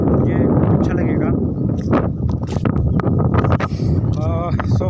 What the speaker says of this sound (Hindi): इतनी सनसेट जो हवा चल रही है, ठंडी ठंडी हवा चल रही है